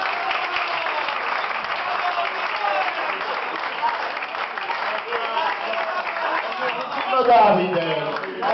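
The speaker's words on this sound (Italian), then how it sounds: "io voglio chiamare mio cugino Antonio, un bel applauso lo facciamo a lui." Applause from a dinner-show audience in a restaurant in Vietri sul Mare, steady and loud for the whole stretch, with voices and chatter mixed underneath.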